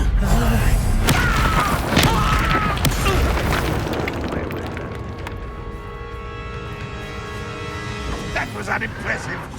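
Bombarda spell explosions in the video game Hogwarts Legacy, with heavy booms and crashing thuds over the first few seconds that settle into a ringing, fading tail. Game dialogue is spoken over the blasts.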